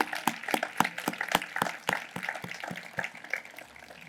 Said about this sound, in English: give them a round of applause for their efforts